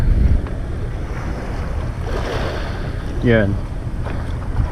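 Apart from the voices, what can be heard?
boat on the sea at night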